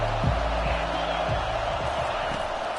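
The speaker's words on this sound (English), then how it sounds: "This crowd bringing the energy and noise early." Stadium crowd at a Big Ten football game, a broad continuous roar of cheering and noise with a few dull thuds, heard alone without talk.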